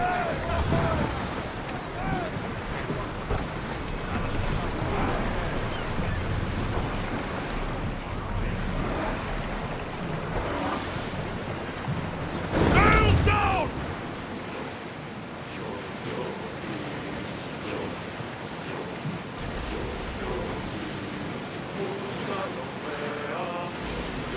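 A sailing ship cuts across ocean waves in Assassin's Creed Odyssey, a continuous wash of surf and wind with a louder rush of spray midway and murmuring voices blended underneath.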